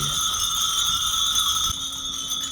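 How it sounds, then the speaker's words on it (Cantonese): Steady metallic ringing of many wind chimes at a temple summer wind chime festival in Fukuoka, Japan, a continuous shimmering tinkle with bright sustained tones, fairly close and unbroken. "咁所以嗰啲風鈴嘅響聲咧就係更加響亮嘅。"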